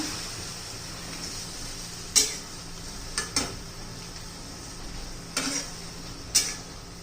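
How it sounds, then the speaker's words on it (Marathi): A utensil taps and scrapes against a pan of fenugreek leaf curry a few times, sparse and sharp, over a quiet steady hiss. "आता मस्त एकजीव करून घेऊया"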